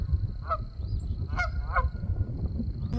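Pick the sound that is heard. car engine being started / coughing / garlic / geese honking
geese honking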